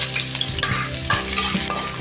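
Onions frying in a pan at the start of squid adobo, with a continuous busy sizzle and intermittent scraping clicks of a utensil stirring, close and alone without talk.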